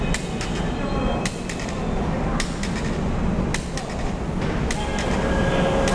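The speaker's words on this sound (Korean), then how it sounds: "전철이 왔네요." A subway train on Seoul's Line 1 pulls into an underground station, a loud steady rumble with repeated sharp metallic clacks and squeaks over continuous station noise.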